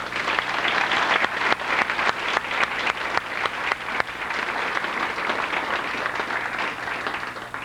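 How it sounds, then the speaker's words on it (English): A crowd applauds with dense, sustained clapping that swells and then gradually thins out. "Let's give them a round of applause."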